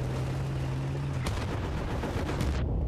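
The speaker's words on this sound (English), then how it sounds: "They're all shooting at us." Gunfire in the video game Battlefield: Bad Company, dense, loud bursts of shots and crackling blasts over a constant heavy noise bed, ending abruptly, with no talking.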